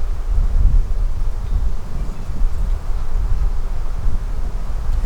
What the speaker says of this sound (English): Boy, I can hear a big wind coming.